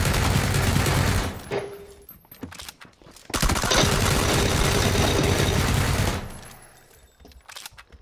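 Loud bursts of automatic gunfire in the battle royale game PUBG, sustained volleys broken by short pauses and ending in scattered shots.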